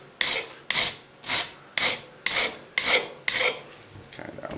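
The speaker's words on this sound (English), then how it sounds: "again just file that off" A hand file rasps a burr off a metal dimple lock pick in seven evenly spaced, close strokes, each a bright scraping rasp, followed by lighter scratching.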